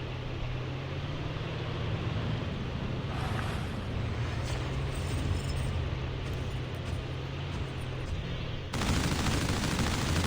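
Gunfire rattles in a Call of Duty Mobile match against zombies, a dense, continuous stream of rapid shots over game background noise that grows louder near the end.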